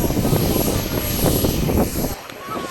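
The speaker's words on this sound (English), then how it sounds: "It's powered by a King Tech jet engine." A large RC jet airplane powered by a King Tech turbine engine, about 38 pounds of thrust, runs at an airfield with a loud, steady whine and roar that drops slightly near the end.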